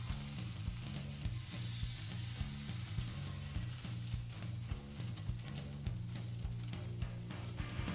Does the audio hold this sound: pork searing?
yes